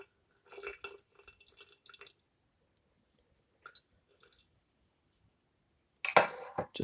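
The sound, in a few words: water poured into rye sourdough starter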